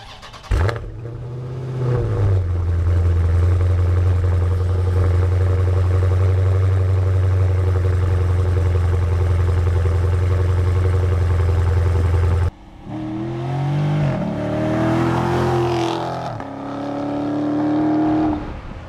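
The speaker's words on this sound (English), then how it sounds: "perhaps the greatest feature, as you can imagine, is this large dual exhaust" A 2018 Dodge Challenger R/T Scat Pack's big V8 roars through its large dual exhaust, holding a loud sustained drone before a short cut and then a series of sharp revs that rise and fall, heard up close.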